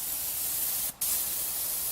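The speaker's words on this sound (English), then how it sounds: "I'm going to spray a little bit to see how consistent it is" Gravity feed spray gun spraying: a steady, loud hiss of atomized spray, cut by one brief pause near the middle before resuming.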